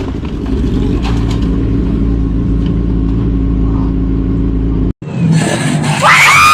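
A truck drives along a narrow two-way road with a car following behind; a loud, steady engine rumble holds throughout, cuts out abruptly for an instant, then returns with a brighter, noisier passing sound.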